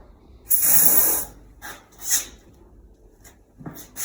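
A short, loud hissing spray burst of vapor corrosion inhibitor from a nozzle into pipework, lasting under a second, followed by a few fainter puffs and rustles.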